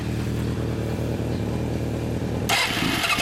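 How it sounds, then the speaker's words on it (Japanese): Suzuki Impulse 400cc motorcycle with a Yoshimura exhaust running close by: a steady, throbbing low engine rumble that breaks into a louder, rasping rev near the end. "エンジンを聞かせてもらえるかな。"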